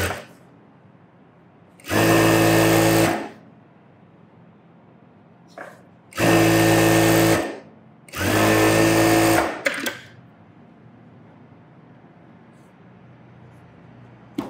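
Sewing machine stitching the edges of a garment sleeve in three loud, steady bursts of whirring, separated by quiet pauses with faint handling noises.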